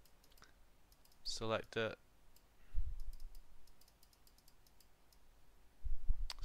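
Sharp computer mouse clicks, some in quick double-click pairs, sound faintly and intermittently at close range beneath a person's speech and a few low thumps, with a muted room background.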